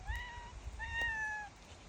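A cat outdoors on a windy day gives two drawn-out meows close by, each lasting about half a second to a second, separated by a short pause, with a low rumble of wind underneath.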